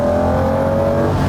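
A Ferrari 365 GTB/4 Daytona engine accelerates hard, a smooth, steady, close-up roar rising with strong throttle, loud and alone.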